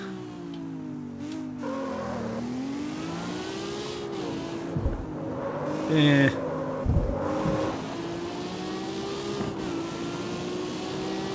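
Lamborghini engine in the CarX Street racing game, a steady droning hum that rises and falls with throttle, joined by brief sharper bursts midway, while someone talks briefly over it.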